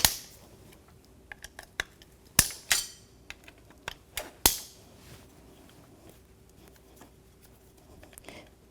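Torx T25 bolts holding the motor to the window regulator of a 2006-12 Toyota RAV4 are broken loose, heard as a series of sharp, close metallic snaps and clicks at irregular intervals over a quiet background.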